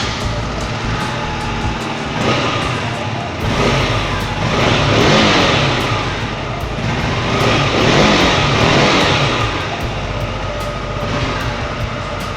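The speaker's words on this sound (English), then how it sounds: "It sounds as sweet as it looks, so let's hear the exhaust sound." A 2022 KTM RC 125 exhaust idles with a throbbing rumble, then revs up twice in swelling surges before settling back, loud and close.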